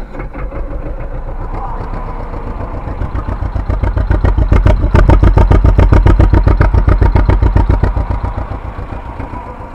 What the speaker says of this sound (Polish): Włączę sobie ciągnik, niech się rozgrzeje.